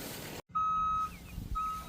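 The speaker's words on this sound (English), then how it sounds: "Oh, it's beeping." A few sharp electronic beeps from an anhydrous ammonia applicator, a long steady tone then a shorter one, close by over a low background hum.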